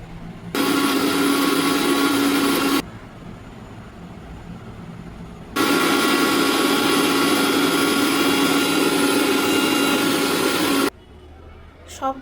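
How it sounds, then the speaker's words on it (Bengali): An electric blender grinds taro with other ingredients for a kachu bharta mash. It runs in two long, loud, steady whirring bursts up close, with quieter room noise in between. "এবার একে একে সব উপকরণ ব্লেন্ড করে নিচ্ছি"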